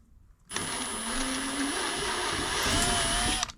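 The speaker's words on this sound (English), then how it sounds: "Very carefully drill it." A power drill whirs steadily for about three seconds as it bores into metal, its pitch shifting slightly under load.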